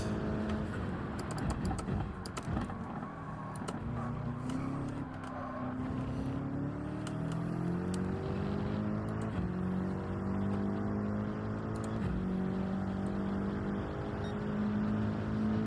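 A Gran Turismo 7 race car's engine revs and sweeps up through its range, rising and falling in pitch, with a sharp rattle of keyboard typing over it and no speech.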